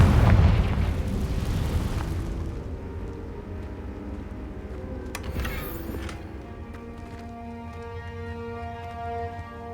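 A Confringo blasting-spell explosion in Hogwarts Legacy, a loud deep boom that rolls and decays over a few seconds, followed by a sharp crack and scattered debris with lingering ringing tones.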